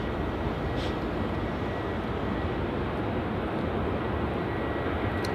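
Airplane taxiing along a taxiway at Melbourne Airport, a steady, broad engine roar and rumble heard from a distance, continuous and even throughout, with no talking.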